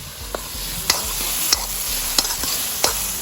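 Onions fried until done, sizzling with dried red chillies in a pan, a steady close hiss punctuated by regular sharp taps of a spoon stirring against the metal.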